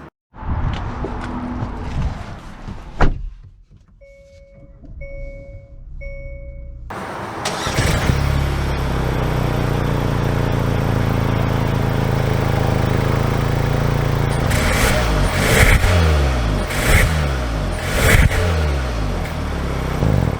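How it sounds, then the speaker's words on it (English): A 2022 Hyundai Santa Cruz Limited pickup truck starts up after a few chimes, then its engine settles into a steady, loud run as it sets off driving, with a few surges near the end. "Let's take it out and drive it."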